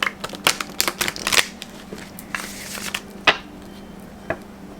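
Madame Endora's fortune cards shuffled up close, a quick run of sharp card slaps and riffles followed by a softer sliding stretch and a few last isolated flicks.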